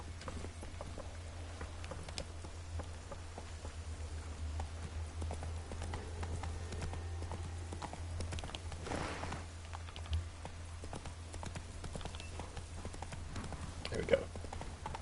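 Horse hooves clip-clop steadily in The Witcher 3 as the mount trots along, a continuous rhythmic patter at moderate level over a low game hum.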